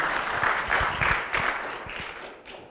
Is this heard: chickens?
no